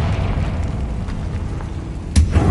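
A blasting spell explodes in a wizarding video game, a heavy low rumble building under steady noise, then a sharp burst near the end followed by a second thud.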